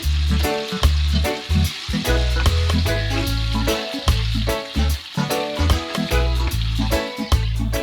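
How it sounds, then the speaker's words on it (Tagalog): Tofu fries in hot oil on a stove, sizzling and crackling steadily over a backing of tonal music. "Binuksan ko na nga ang kalan para makapagsimula na magprito."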